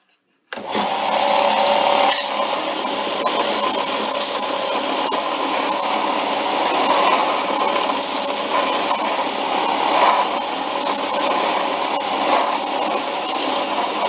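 A metal part is ground on a belt sander, its steady loud abrasive whine starting abruptly after half a second and holding continuously to the end without talk.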